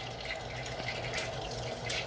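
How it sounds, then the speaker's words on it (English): Water heating in a pot for spaghetti on a kitchen stove gives a soft, steady liquid rush with faint bubbling and small splashes, quiet and continuous with no talk. "What I am doing here is boiling some water for spaghetti."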